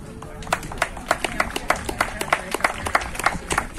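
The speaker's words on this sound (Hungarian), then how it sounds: "Most jön a taps." Scattered clapping from an outdoor crowd at a horse-driving competition day honoring the winners, distinct individual claps in an uneven rhythm, moderately close, with background murmur.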